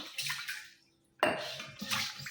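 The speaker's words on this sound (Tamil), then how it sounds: "நல்ல தண்ணியில் வந்து மேலே மட்டும் தண்ணியை கொஞ்சமாக ஊற்றி திரும்ப ஒரு டைம் அலசி எடுத்துக்கலாம்" Water splashing and sloshing as a copper vessel is rinsed with a small amount of clean water, in two close bursts separated by a brief pause.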